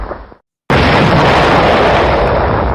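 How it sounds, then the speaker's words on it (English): A loud, sudden explosion bursts in after a brief silence, then a dense roaring blast sustains with heavy rumble for over two seconds. "It sounded like some sort of explosion."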